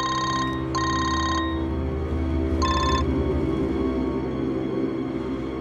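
A telephone rings in short repeated electronic bursts, two quick rings then a pause and a third, loud and close over a steady low hum with no talk.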